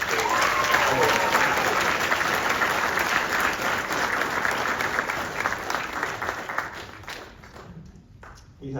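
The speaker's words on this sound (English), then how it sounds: "Could we please get another round of applause for the students on" An audience at a school winter concert gives the students a sustained round of applause, loud and dense at first and thinning toward the end, as a voice speaks briefly over it.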